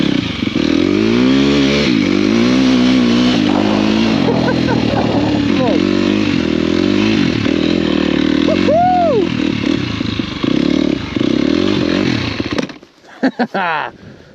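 A KTM 250 motorcycle engine revs hard and continuously while drifting through snow, loud and close with rising and falling pitch, cutting out near the end with a few sputters.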